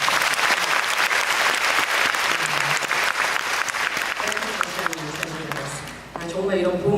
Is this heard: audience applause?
yes